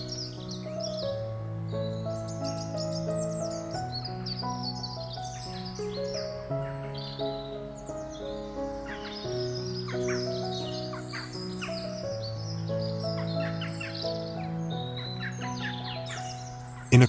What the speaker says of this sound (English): surrounded by the rhythm of birdsong and rustling leaves